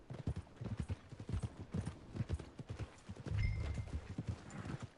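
Horse hooves clip-clopping in the video game Red Dead Redemption 2, a steady rapid run of close, distinct hoof strikes, with a brief louder rumble and a faint whinny partway through.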